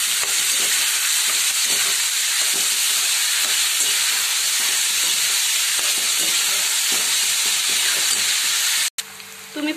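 Plenty of onions for egg bhurji frying in a pan, a loud steady hiss of sizzling oil with soft regular stirring taps, close up, cutting off briefly near the end.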